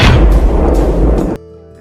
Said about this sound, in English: a single crisp shot pierced the frosty air